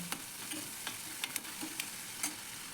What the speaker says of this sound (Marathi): आता मी त्यावर मीठ टाकते आणि कांदा चांगला लालबुंद होईपर्यंत परतवून घेणार आहे